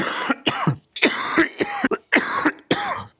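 A sick man coughs repeatedly, several harsh close bursts in quick succession separated by short pauses, with some throat clearing.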